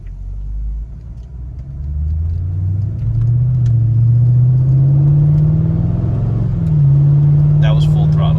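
A Mercedes CLK55 with an accelerator position sensor fault accelerates at full throttle from a stop, heard from inside the cabin as a rising engine drone climbing steadily in pitch, briefly shifting, then pulling on.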